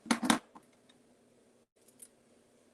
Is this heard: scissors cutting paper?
yes